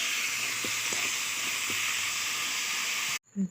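Food sizzles loudly in a heated wok with a steady hiss. Faint clicks of stirring come through, then the sound cuts off abruptly near the end, followed by a brief soft thump.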